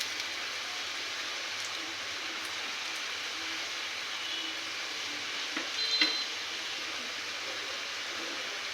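Fig fritters frying in oil make a continuous soft, even sizzle throughout, with a faint clink near the end and no voices.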